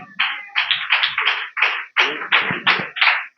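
An audience at a Sunday school church gathering applauds as children receive gifts, with uneven bursts of clapping, close and fairly loud, and no talk.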